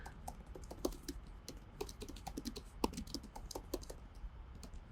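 Rapid typing on a computer keyboard: quiet, irregular clicks and taps in quick succession, close by, with no speech.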